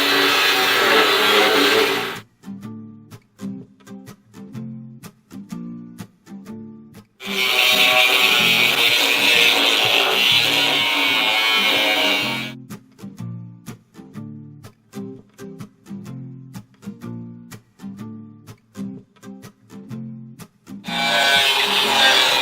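A disc cutter shrieks through a metal boiler barrel in three loud bursts of several seconds each. Quieter clanking and handling noises fill the pauses between cuts.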